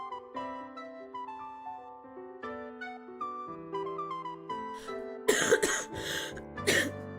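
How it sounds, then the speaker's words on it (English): A streamer coughs several times in quick, harsh bursts over soft background game music playing a gentle melody, the coughs loud and close. "Sorry, should I mute when I cough?"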